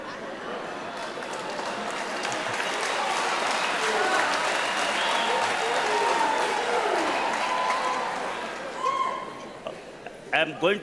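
A graduation ceremony audience claps in a broad, sustained round of applause that swells and then tapers, with a few voices and stray sounds emerging near the end.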